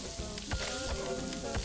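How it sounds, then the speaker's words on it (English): Apple pie sizzles hot in Cook, Serve, Delicious 3, giving a steady crackling hiss broken by soft repeated clicks and thumps. The sound is faint and no one speaks. "It's actually sizzling apple pie."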